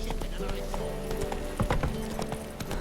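Horse hooves clip-clop at a steady gallop in the video game Witcher 3, a rhythmic run of thuds close up with a brief whinny and game dialogue over the top.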